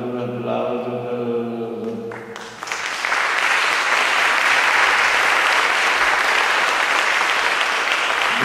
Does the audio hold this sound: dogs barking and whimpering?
no